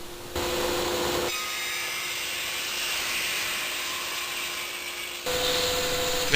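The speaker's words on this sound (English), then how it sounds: "I start by cutting some recycled IKEA shelving into strips" Recycled IKEA shelving is ripped into strips on a saw, a loud steady high-pitched cutting whine running about four seconds, with the motor's idle hum before and after.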